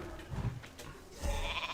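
A sheep bleat from a polymorphed character in the World of Warcraft video game, two short bleating bursts heard alone at moderate loudness over faint game background.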